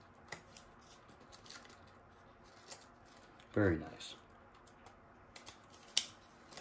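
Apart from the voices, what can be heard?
car key fob button pushed to release spare key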